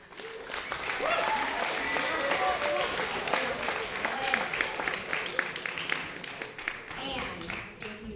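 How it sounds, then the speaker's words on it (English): An audience applauds after a theatre performance: steady clapping that carries through the whole stretch, with voices and talk mixed in underneath. "get a big round of applause for fostering his writing over the years"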